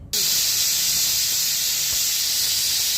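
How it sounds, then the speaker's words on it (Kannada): A pressure cooker cooking rice for tomato rice bath vents steam through its whistle, a loud, steady hiss that starts abruptly and holds without a break for the full length, with no talking. "2 ಸೀಟಿ ಆಯ್ತು"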